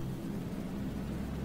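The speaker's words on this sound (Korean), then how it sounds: "처음 들어본 차 소리" A car engine in the PUBG desert map, a steady low rumbling drone that holds evenly and loud throughout with no gaps or talk.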